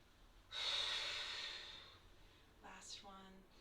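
A single long, loud inhale during a guided mindful breathing exercise, a steady airy rush lasting over a second before fading, followed by a brief stretch of a quiet voice.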